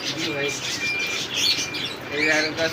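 Pigeons for sale at a bird market call and chirp in a busy mix with other birds, a dense steady chatter with scattered higher tweets throughout.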